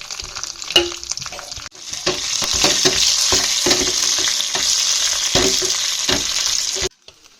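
Loud, close sizzling of spices and curry leaves crackling in hot oil for a chutney tempering, starting after a clatter and running steadily for several seconds before cutting off abruptly.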